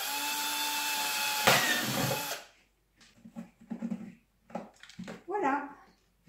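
A drill bores holes in a wooden bird feeder with a loud, close, high whine for about two seconds, then cuts off. Speech continues in short phrases afterward.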